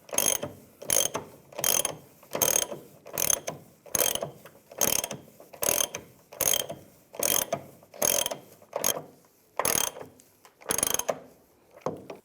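Rhythmic bursts of a ratchet cranking down leaf spring shackle bolts on a 2007-2013 Chevrolet Silverado, about a dozen close clicking runs separated by short pauses.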